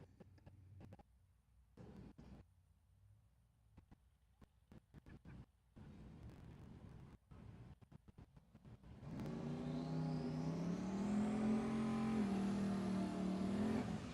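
A 2003 Ford Mustang drag car at the Texas Motorplex starts with faint, intermittent engine bursts and clicks, then launches into a loud, sustained rising roar as it accelerates down the strip.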